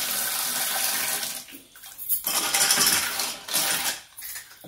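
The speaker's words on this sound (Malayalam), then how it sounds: "നമ്മൾ ഈ പാസ്ത ഒന്ന് കഴുകുവാണേ." Pasta being rinsed under a running tap: a steady, close rush of water that briefly dips and surges as the flow is broken up, with no voices.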